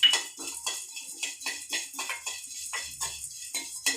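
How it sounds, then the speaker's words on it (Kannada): Dry chana dal and peppercorns rattle and scrape in a hot, oil-free pan while being roasted for sambar powder, giving a steady run of about ten close, rhythmic stirring strokes with a clattering, gritty edge and no voices. "ಈಗ ಮೆಣಸಿನಕಾಳನ್ನು ಹಾಕ್ತೇನೆ"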